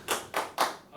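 Three sharp hand claps in a steady rhythm, close and fairly loud, from a speaker leading a session crowd, with no voices over them.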